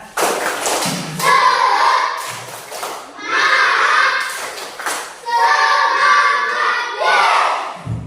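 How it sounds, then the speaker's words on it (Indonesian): Schoolchildren in a classroom perform the 'tepuk semangat' spirit clap, their voices chanting together in loud rhythmic bursts with claps and thumps mixed in across several phrases. "kita tepuk semangat ya, tahu? Tepuk semangat."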